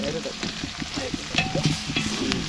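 Onions frying for a biryani on a wood-fired clay stove at a Konkan night party, a steady close sizzle broken by the scrape and clatter of stirring, with faint voices underneath.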